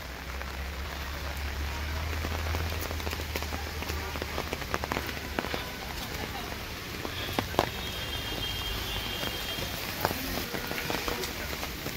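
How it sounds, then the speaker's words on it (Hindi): Light rain falling in Nainital, a continuous soft patter on surfaces with scattered sharper drips, heard outdoors with traffic hum and occasional distant sounds underneath. "आज थोड़ी सी बारिश है,"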